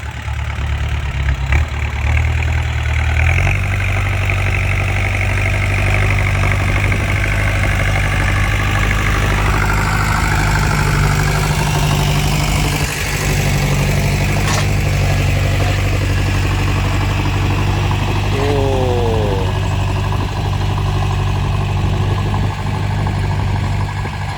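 A loud, continuous low engine rumble idles throughout, steady and close, with occasional faint mechanical clanks, from a tractor-type root crop harvester used for sweet potatoes and jicama.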